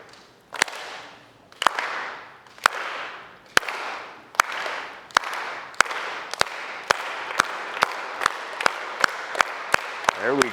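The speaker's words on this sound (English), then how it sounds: "And if you can hear this, clap along with me." Standing audience at a college business talk clapping along in unison, sharp single claps in a steady rhythm that begins slow and gradually speeds up, each clap ringing out in a reverberant hall with crowd murmur between.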